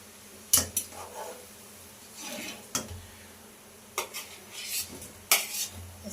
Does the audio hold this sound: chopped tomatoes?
yes